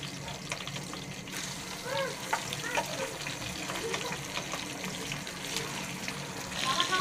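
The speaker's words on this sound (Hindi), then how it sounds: "मछली एक साइड से फ्राई हो चुकी है, तो अब हम इसको पलट लेंगे।" Fish fries in a pan with a steady close sizzle and crackle, some bubbling pops and a few small clatters, while a faint voice speaks in the background.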